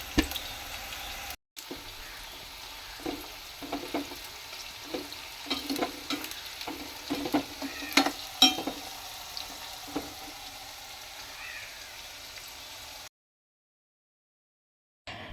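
Jackfruit chips fry in hot oil with a soft, uneven sizzle broken by stirring clicks and scrapes, moderately close, before cutting to silence near the end.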